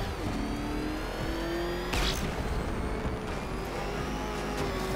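A car engine in the video game Batman: Arkham Knight revs and accelerates steadily, a continuous droning roar with rising pitch and a brief louder surge midway, no talk over it.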